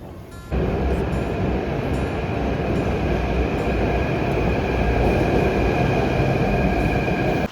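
A metro train at Badi Chaupar station in Jaipur, heard as a loud, steady rumble with a faint high whine that begins abruptly and carries on throughout, with no voices.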